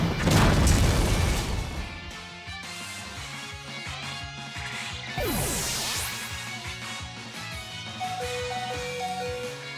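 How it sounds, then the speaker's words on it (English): Battle effects from Pokémon Shield, a Head Smash or Fire Pledge attack, open with a loud booming impact and then run on as layered game effects with sweeping tones over steady background music, with no talking. "I think one more head smash can kill it and we'll survive the recoil."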